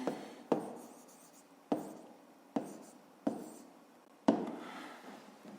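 Pen strokes scratch across paper while a fifth-grade maths solution is written out, six or so sharp taps each trailing into a brief scrape, close and fairly quiet, no voices.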